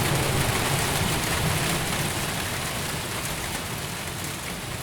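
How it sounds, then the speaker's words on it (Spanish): A storm with heavy hail pours down in a dense, unbroken roar of pelting impacts, loud and steady from start to finish with no other sounds. "la tormenta llevaba en sus gélidas alas no nieve, sino un enorme granizo"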